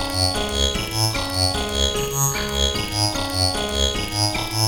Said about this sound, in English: I programmed a quick melody and I dubbed it with the piano